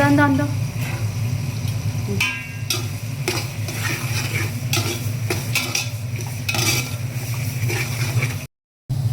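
A spoon scrapes and clanks repeatedly as biryani with tomatoes is stirred in a cooking pot, the irregular metallic knocks mixed with a low sizzle and people talking nearby.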